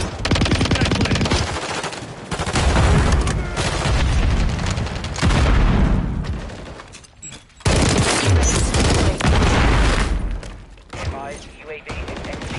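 Rapid automatic gunfire and bursts of shooting in a Modern Warfare 3 multiplayer match on the map Ink House, loud and dense with brief gaps and booms, while players talk over the shooting.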